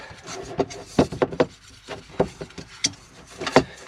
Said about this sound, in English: I'll rub it into this, bearing in mind this one's aluminium. So I literally will rub that in now